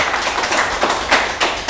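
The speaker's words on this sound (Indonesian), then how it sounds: "Tepuk tangan yang meriah untuk kita." Short burst of clapping from a small group at a local football discussion event in Banyuwangi, a few seconds of close, uneven hand claps with sharper accents near the end.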